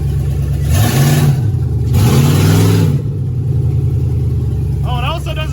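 A Chevrolet 2500 van with no doghouse cover over its engine revs hard twice in quick bursts, very loud and close, then idles roughly; a voice cuts in briefly near the end.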